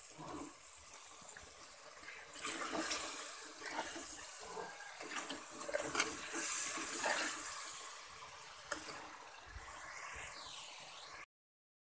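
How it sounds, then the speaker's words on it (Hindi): Water pours and splashes in uneven bursts for several seconds, gurgling into a fish curry pan, then cuts off abruptly. "थोड़ा सा पानी डाल लेंगे।"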